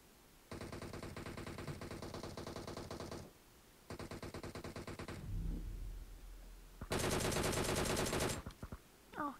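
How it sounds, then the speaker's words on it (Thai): Rapid automatic gunfire from a video game, coming in long sustained bursts separated by short pauses, loud and close, ending with a final intense burst and a few scattered sounds. "เฮ้ยเฮ้ยมีคนยิงอ่ะ"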